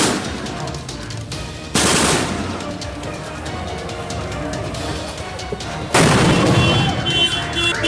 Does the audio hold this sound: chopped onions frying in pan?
no